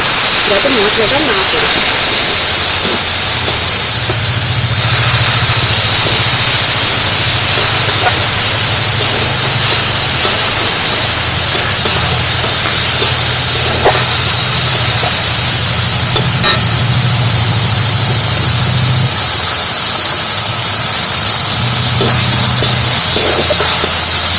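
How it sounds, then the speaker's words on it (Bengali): Spice masala with Kashmiri chilli powder frying in a pan with a splash of water, giving a loud, steady hiss and sizzle with a bubbling low rumble throughout. "এবার মশলাটা একটু ভেজে নিচ্ছি আর এতে কিন্তু সামান্য পরিমাণ একটু জল দিতে"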